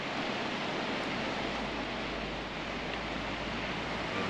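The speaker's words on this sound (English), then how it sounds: "Wow, look at the rapids, huh?" Rapids on the San Juan River near Pagosa Springs, a dense unbroken rush of churning water, steady and loud, with no talk.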